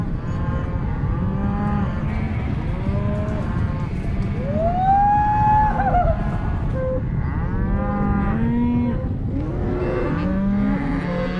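Cattle low in Argentina's gaucho country at golden sunset, several cows mooing in overlapping, drawn-out calls, some near and loud, others farther off, over a steady background of herd noise.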